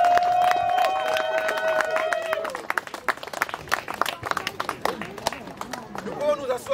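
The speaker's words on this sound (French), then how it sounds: "Acclamons un peu le Seigneur." A church congregation at a wedding blessing in Rouen acclaims the Lord, with a sustained tone giving way to lively clapping, cheering voices and crowd hubbub.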